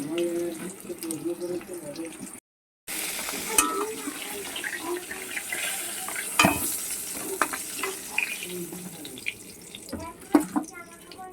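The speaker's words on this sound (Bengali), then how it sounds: "এইভাবে পটলগুলোকে ও লাল লাল করে ভেজে নেবো আমরা" Pointed gourd pieces frying in hot oil in a pan: a steady close sizzle with stirring scrapes and clinks, broken by one brief silent gap.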